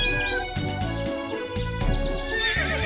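A cat meows repeatedly in the video game King Exit, close, clear tonal calls rising and falling over a bed of game music, with no voices.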